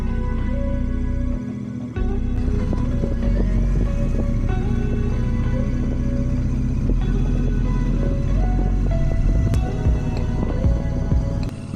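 A Royal Enfield Meteor 650 motorcycle cruises along a road, its engine a steady, loud drone with a brief dip near the start, then continuous rumble and wind throughout.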